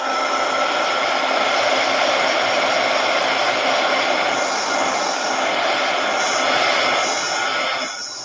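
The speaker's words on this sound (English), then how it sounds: "So I'm going to hit this with my heat gun a little." Heat gun blowing hot air across an acrylic painting of a butterfly, a loud, steady broadband whoosh lasting throughout with no talking, easing off slightly right at the end.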